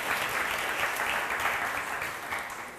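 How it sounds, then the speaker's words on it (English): Audience applause for a performer at a Black History Season launch at Camden House, a dense wash of clapping from a crowd, steady and moderately loud, tapering slightly at the end. "can I have a big round of applause for Kouyate"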